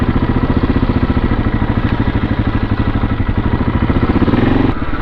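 A KTM 640 single-cylinder motorcycle engine thumps steadily while riding, a loud, close, rapid pulsing drone with a brief shift in tone near the end and no voices over it.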